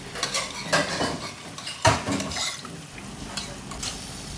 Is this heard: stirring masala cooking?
yes